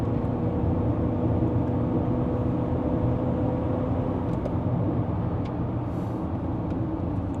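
A Jaecoo J7 AWD with a 1.6-litre turbocharged four-cylinder and seven-speed Getrag dual-clutch gearbox drives uphill toward Genting in Malaysia, heard from inside as a steady, loud engine and road drone throughout.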